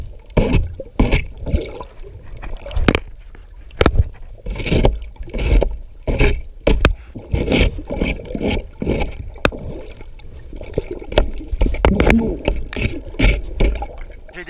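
Repeated scraping and knocking against a boat hull as algae is scraped off underwater, with splashing water and a few gurgles; irregular rhythm, close by, no talking.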